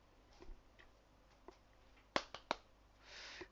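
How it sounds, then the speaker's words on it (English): Three sharp claps in quick succession, close and fairly loud, with softer taps before them, over a quiet room and a brief hiss at the end. "Clapping my hands."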